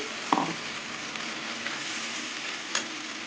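Garlic paste sizzles steadily in a pan as rinse water from the blender jar goes in, with a sharp metallic clink near the start and a couple of faint knocks over the continuous hiss.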